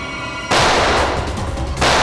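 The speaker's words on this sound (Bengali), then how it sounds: "সিআইডি অফিসারকে গুলি করে দিলি?" Gunfire in a Bengali CID police TV drama: two loud, sharp bursts of shots in quick succession, close and harsh, with no talk.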